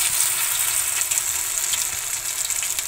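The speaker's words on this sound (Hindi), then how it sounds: "कढ़ाई में हमने तेल गरम होने के लिए रख दिया, तो इस तरह से इसके अंदर फ्राई कर लेना है" A wheat flour cutlet snack deep-fries in hot oil in a kadai over a medium flame, giving a steady, close, bright sizzling hiss that stays even throughout with faint crackles.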